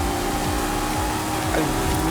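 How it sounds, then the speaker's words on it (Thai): A Lamborghini engine drones steadily close behind the player's car during a Forza Horizon 5 race, a continuous loud engine hum running through the whole stretch with a brief pitch shift near the end. "ลำโบก็ที่ตูดเราเนี่ยเสียงลำโบติดๆมาเลย"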